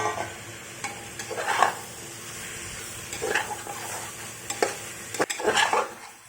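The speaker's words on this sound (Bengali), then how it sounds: "এখন দিয়ে দেবো এই মাংস এটা লেবুর রস দিয়ে মাখিয়ে রেখেছে" Lemon-marinated chicken is added to a frying pan and stirred through spices, giving a few clattering scrapes and a soft sizzle in uneven bursts, moderately close with no talking.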